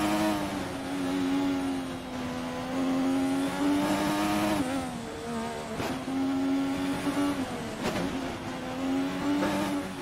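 Formula 1 car in the F1 2020 video game screams along at high revs, with sharp pitch drops and quick blips around 6 and 8 seconds as it downshifts into corners, engine loud and constant, no voices.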